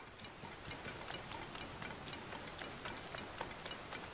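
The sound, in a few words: rain falling in video game Zelda: Tears of the Kingdom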